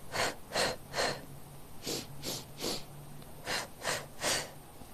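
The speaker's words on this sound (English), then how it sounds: "breathe in through your nose and then out through your mouth" Rhythmic breathing in through the nose and out through the mouth, in three sets of three quick, close breaths with short gaps between sets.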